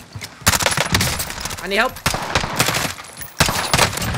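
Kilo 141 assault rifle firing in Call of Duty, with several loud close bursts of rapid automatic gunfire broken by short pauses and a brief radio voice line in between.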